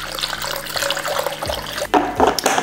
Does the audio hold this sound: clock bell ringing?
no